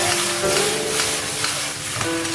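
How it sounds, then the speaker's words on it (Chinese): Pak choi stir-fried in a wok with golden fried garlic and lard, a steady close sizzle and crackle of frying with faint scraping from stirring, no voices. "下入切好的小白菜。 再去翻炒"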